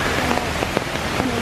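Rain falls steadily outdoors on a wet day, a dense close patter of drops on surfaces with a few sharper splashes, while a person speaks briefly over it.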